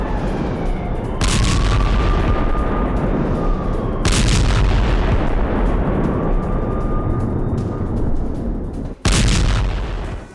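Rocket and artillery fire in the Russia-Ukraine war: several heavy booms, each followed by long, rumbling echoes over a steady low roar, with a final sharp blast near the end.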